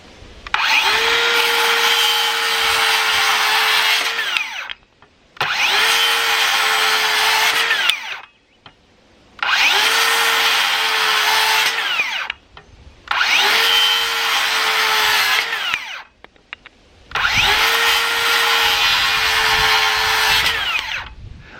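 DeWalt 60V worm drive style circular saw making five quick crosscuts through dry 2x4s, each a loud high whine with the rasp of blade in wood, split by short pauses of near silence.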